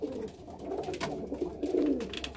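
Pigeons coo steadily in a breeding loft where six cocks and six hens have just been paired with nesting bowls, soft overlapping murmuring calls rising and falling close by, with no talking.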